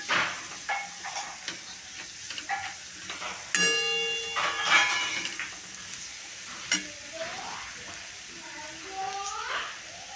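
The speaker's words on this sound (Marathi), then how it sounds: "मेथीच्या भाजीसाठी मी दळून घेतलेले आहे आणि तेलात करपून घेते" Ground fenugreek roasts in hot oil in a pan with a soft, steady sizzle and occasional stirring scrapes, joined by a bright metallic ring and some faint tonal chirps in the background.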